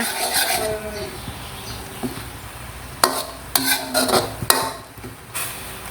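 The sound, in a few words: stirring tapioca starch sauce in a pot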